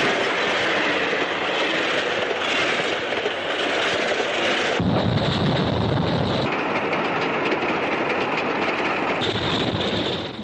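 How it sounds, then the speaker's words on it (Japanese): A new electric locomotive pulls an express of light-alloy passenger cars at about 120 km/h on the Tokaido Line, a continuous loud rumble and rush of wheels with shifting tones as carriages pass close by. "国鉄で一番力の強い新型機関車に新しい軽金属製の客車を引かせる快速列車の試運転"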